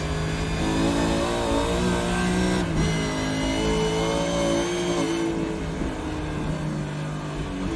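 Supercars race car engine at Bathurst Mount Panorama in iRacing, droning steadily at high revs then easing off the throttle, loud and continuous with no talk over it.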